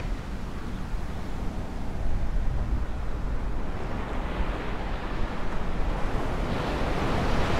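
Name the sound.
ocean waves at Sugar Beach, Maui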